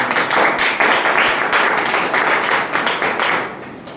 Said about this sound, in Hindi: आप सभी लोग अपने लिए एक बार जोरदार ताली